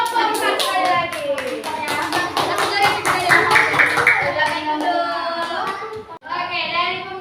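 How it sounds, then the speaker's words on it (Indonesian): Children in a classroom clap together for a group in rhythmic, fairly loud bursts, with a few voices mixed in and a brief pause before the clapping picks up again. "Tepuk tangan untuk kelompok sekali lagi"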